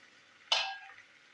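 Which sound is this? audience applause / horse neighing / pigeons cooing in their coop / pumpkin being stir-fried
pumpkin being stir-fried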